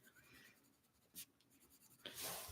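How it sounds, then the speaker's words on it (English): Kalour colored pencils scratch faintly on paper in a few short strokes, quiet and close, with a brief louder scrape near the end and no talking. "Yeah, these are kind of scratchy. I've heard worse though."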